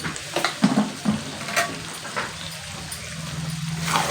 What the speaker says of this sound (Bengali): এবারে কিন্তু এটাকে আমি সুন্দর করে কষিয়ে নেব।